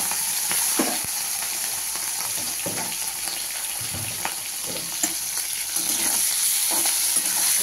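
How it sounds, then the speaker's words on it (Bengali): Prawns hiss and sizzle steadily in hot oil in a wok, with soft spatula stirs and occasional clinks against the pan standing out over the continuous frying, close and alone with no voices. "তেল গরম হয়ে গেছে, দিয়ে দিলাম চিংড়ি মাছগুলো।"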